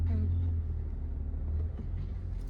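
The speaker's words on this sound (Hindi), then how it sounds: "अब देखो ये हल्का सा एक्सीलेटर लिया यहाँ पे" A car engine rumbles low and close under light acceleration, a steady deep hum with a mild swell at the start.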